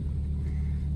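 A 1993 Jeep Wrangler Sahara YJ with the 4.0L engine idles with a low, steady rumble close by, with no clear rise in revs over the short stretch.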